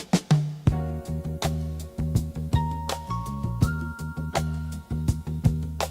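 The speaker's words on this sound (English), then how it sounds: "Tell me if you guys can hear this playing in the background." Music plays with a rhythmic beat of repeated plucked or struck tones and sustained notes, fairly clear and steady throughout, with no speech over it.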